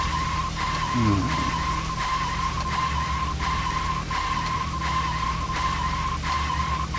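Steady car engine drone with a quick tire skid early on, from the video game Deadly Premonition, with regular electronic ticks over the hum.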